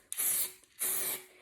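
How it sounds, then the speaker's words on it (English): Two short bursts of Hobbycraft permanent adhesive spray hiss from an aerosol can onto a sticky-backed board, each about half a second, close and crisp with a quiet pause between. "So just give it a good spray, and I literally am just going to add a layer of adhesive to the sticky back"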